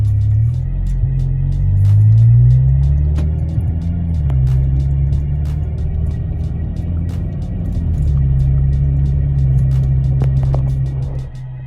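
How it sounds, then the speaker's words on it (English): An Audi car in valet mode drives along, its engine and road noise forming a steady, deep droning hum that swells slightly and eases off, with no one talking. "I'm gonna go ahead and drive around to see if I'm missing any performance in my vehicle."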